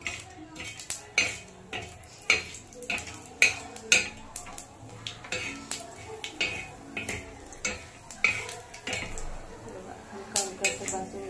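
Whole bay leaf, clove, caraway, cardamom and black pepper dry-roasting with masala in a pan for a kala masala bhaji, stirred with a metal spoon that clinks and scrapes in a steady, fairly close rhythm throughout.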